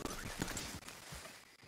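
Horse hooves clip-clop across ground in Red Dead Redemption 2, a steady irregular patter of footfalls close by over a constant ambient bed, with no talking.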